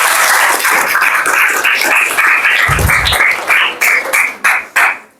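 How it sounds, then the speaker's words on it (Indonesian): Classroom clapping from a group of students, a dense burst of many hands that breaks into several separate rhythmic claps near the end. "Ya, tepuk tangan bagi kita semua."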